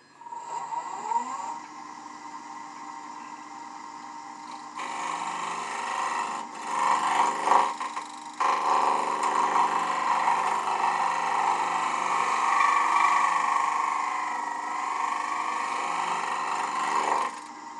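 A wooden cube turned on the bias spins on a lathe while a gouge cuts away material, producing a sustained rasping, scraping whine that shifts in tone as the cut deepens, with no talking.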